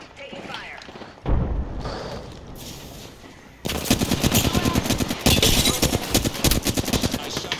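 Gunfire in Apex Legends, sustained automatic bursts that grow louder and denser midway, hammering steadily close up with heavy impacts underneath.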